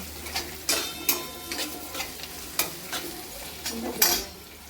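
A few garlic cloves tossed in hot oil tempering for a dry potato dish, sizzling steadily while a spoon stirs and scrapes the pan in repeated sharp strokes, close and clear with no talking.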